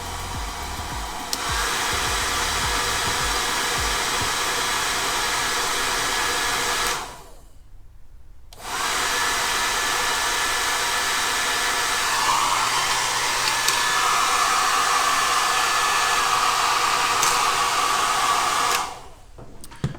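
Nasjac folding 1800W hair dryer blowing with a steady whoosh and motor whine, cut off briefly for about two seconds before restarting, then switched off near the end.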